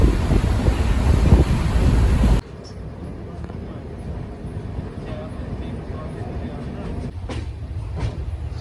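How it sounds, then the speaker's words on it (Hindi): The Barmer Superfast Express pulls into platform 1 at Sadulpur Junction. A loud, wind-buffeted rumble fades to a lower steady rolling of wagons with occasional clanks, and voices carry in the background. "के 1 नंबर प्लेटफॉर्म पर अराइविंग करती हुई बाड़मेर सुपरफास्ट एक्सप्रेस।"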